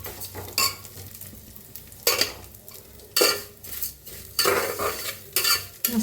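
Vermicelli (shevaya) roasting in ghee in a kitchen pan for kheer, with a utensil scraping and stirring in repeated bursts over a soft steady sizzle, close and moderately loud, with no talking.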